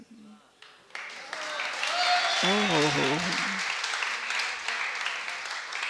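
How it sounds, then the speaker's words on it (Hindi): An audience at a Jain stone temple claps together in a steady, fairly loud wash of applause that builds and holds, while someone speaks and briefly chants over it. "ताली से ऐसे बजा रहे हो जैसे कहीं बिल्कुल क्लास से पढ़ के आए हो ताली बजाना।"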